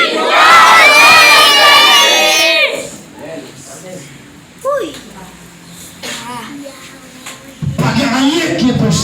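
Church congregation at a night deliverance prayer vigil shouting victory in the name of Jesus, a loud massed roar of voices for about two and a half seconds, then quieter scattered talk before the crowd swells again near the end.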